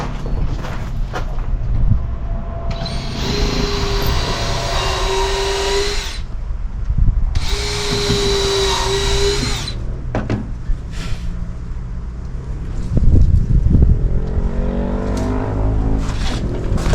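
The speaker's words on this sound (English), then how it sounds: "Drill." Power drill running in two sustained bursts of a few seconds each, a steady whining motor tone close up, amid clattering and bumping work noises.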